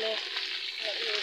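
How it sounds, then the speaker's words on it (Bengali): Vegetables frying in a pan with spices give off a short, steady, close sizzle, a continuous bright hiss with no talking. "এটা খানিকক্ষণ ভেজে নেব"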